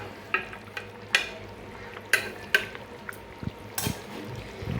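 Curry simmers in a pan on a home stove while a spoon stirs it, giving a quiet bubbling bed broken by several sharp scraping clinks of metal against the pan at uneven intervals.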